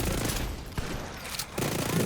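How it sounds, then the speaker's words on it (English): Gunfire in a video game, a sniper rifle, comes as a dense, loud burst of overlapping shots with one sharp crack standing out partway through and heavy mixed game noise throughout. "It's a sniper."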